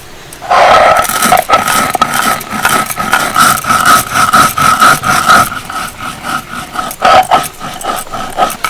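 Roasted coriander, fennel and cumin seeds ground on a stone slab, a close rasping, rubbing scrape repeating in back-and-forth strokes for several seconds, loud and continuous.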